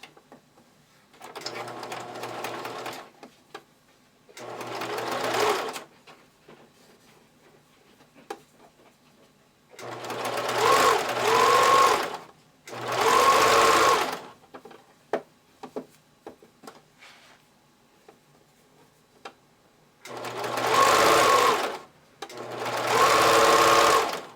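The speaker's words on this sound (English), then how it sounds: "Just anchor it on with a zigzag stitch." A sewing machine zigzag-stitches decorative elastic onto the waist edge of knickers, running in several steady bursts of two to three seconds each with quiet pauses between. The whirring is close and loud.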